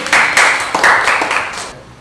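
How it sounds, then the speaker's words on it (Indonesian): Students in an Indonesian classroom clap their hands together, a short burst of close, fairly loud claps in an uneven rhythm that tapers off. "tepuk tangan buat Mungkin"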